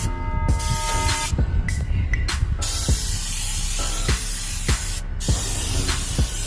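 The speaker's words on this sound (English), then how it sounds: "Just make sure you get a good spray on the inside." A cleaner sprayed inside a Pellet Pro 2300 vertical smoker, with repeated sharp bursts of hissing spray at irregular intervals, close and loud, over a steady background rush.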